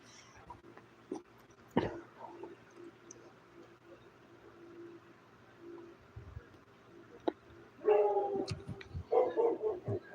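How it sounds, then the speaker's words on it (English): Dogs bark and whimper outdoors in the background, scattered faint yelps early on, then a louder cluster of barks and howl-like calls near the end, no talk. "if you hear background noise like dogs barking"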